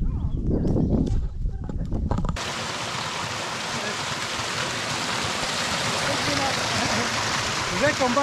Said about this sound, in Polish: Potok górski, jak tu Darek zasugerował, zimna woda, koło zera nawet.